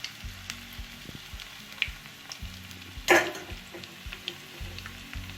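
Chicken pakodi pieces fry in hot oil over a medium flame, giving a steady close sizzle with a low background hum and one sharper spatter burst midway.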